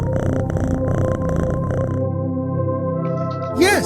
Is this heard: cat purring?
yes